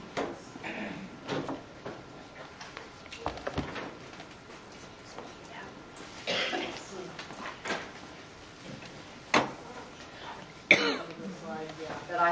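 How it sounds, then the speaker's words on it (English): Scattered, moderately close coughs and throat clearing from a presenter with a lingering cough after an upper respiratory tract infection, separated by quieter stretches with faint room noise. "Have a little bit of a residual cough from an upper respiratory tract infection"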